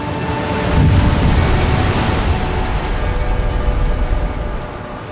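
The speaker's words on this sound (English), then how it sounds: "when you just listen to the sound of the waves" Steady roar of surf with swells of rushing water, broad and rumbling like waves echoing in an enclosed rock space, with no voices.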